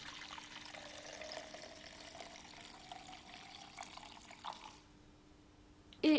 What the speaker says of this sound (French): Je verse dans un bécher cette suspension.